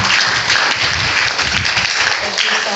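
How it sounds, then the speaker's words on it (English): An audience applauding panelists at a community event, dense continuous clapping that stays loud and even throughout. "give them a round of applause."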